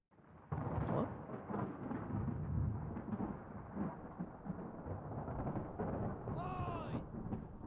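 Low rumbling thunder from an approaching storm in the video game Obra Dinn rolls on steadily for several seconds, loud and continuous, with a brief high whistle-like call near the end.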